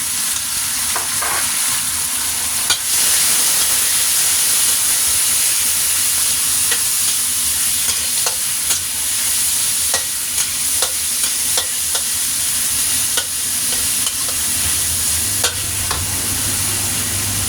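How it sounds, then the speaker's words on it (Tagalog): Marinated chicken thighs fry in a pan with a loud, continuous sizzle, broken by repeated stirring scrapes and clicks, close up and with no talking. "fry the marinated chicken."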